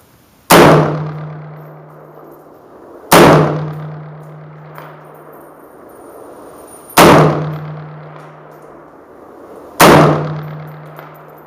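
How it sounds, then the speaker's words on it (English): Four loud, sharp metallic clangs from rifle rounds striking a 14-inch round steel plate at 300 yards, spaced about three seconds apart, each ringing briefly before fading, with no talk. "We're shooting at 300 yards at a steel plate that's about 14 inches round"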